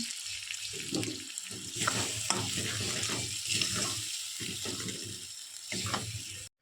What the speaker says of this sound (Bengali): এখন হলুদ গুঁড়ো আর পরিমাণ মতন লবণ দিয়ে ভালো করে নাড়িয়ে নেব।